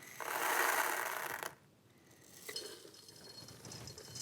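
A microwave is being set to cook popcorn, giving faint mechanical ratcheting and clicking that starts as a dense burst and then fades to sparser, quieter clicks.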